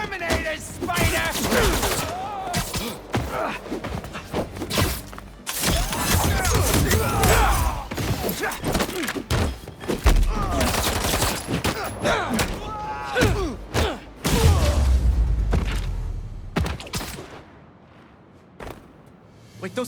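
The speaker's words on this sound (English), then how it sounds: "Wait, those fireworks are lit?" Fireworks blast and crackle in a burst of repeated explosions and thuds during a Marvel's Spider-Man 2 game sequence, loud and busy, with character voices talking over the chaos before it tapers off.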